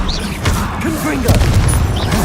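Explosive Confringo spell blasts in the Hogwarts Legacy game, booming under a busy mix of creature cries and battle noise, with a strong low thud around the middle.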